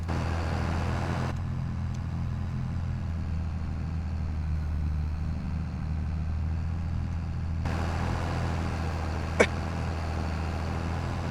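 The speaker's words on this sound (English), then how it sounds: "Come on tractor, you can do it." Heavy 54-ton tractor labouring on a Montana farm, a quiet, steady low engine drone that hums on without change, with one brief faint click near the end.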